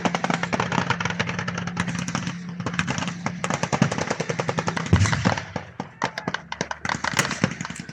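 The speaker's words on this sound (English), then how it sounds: "All of the vehicles now not only opening up with a main armament, but with 50-cal machine guns mounted on the top of the turrets" Tank-turret .50-cal machine guns at a WWII battle reenactment at the Victory Show in Cosby hammer out rapid, sustained bursts of loud, close gunfire, with a low engine drone underneath.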